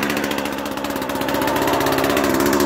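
A chainsaw engine idles steadily and loudly close by, a continuous rough chugging drone with a faint rising pulse, no voices.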